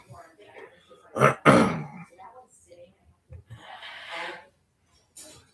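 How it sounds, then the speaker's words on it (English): A short, sharp nose blow stands out near the start, followed by fainter snorts and breathy noises, then quiet. "blowing his nose, in case you heard that."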